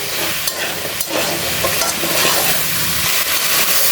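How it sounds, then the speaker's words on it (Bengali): Onion flowers frying and being stirred into a spice paste for a fish curry, a steady close sizzle with scraping stir strokes throughout and no voices. "পেঁয়াজ ফুলটা দেওয়ার পরে একটু কষিয়ে নিলাম"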